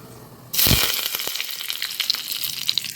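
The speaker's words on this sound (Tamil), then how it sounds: "இப்போ நம்ம அதை அழகாக தாளிச்சிடலாம்" Spices for tempering a village tea-shop watery chutney hit hot oil with a sudden loud sizzle that keeps crackling and popping steadily after the first burst.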